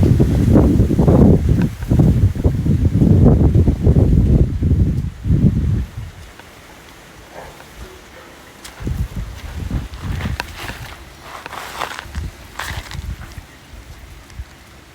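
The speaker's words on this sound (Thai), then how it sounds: "มีแดดแต่ก็ยังมีลมที่เย็นสบายนะคะทุกคน" Cool breeze blows through tree branches at a sunny garden home, a soft steady rustle of wind and leaves heard alone after several seconds of louder gusty microphone buffeting.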